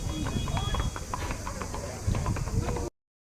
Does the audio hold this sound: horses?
yes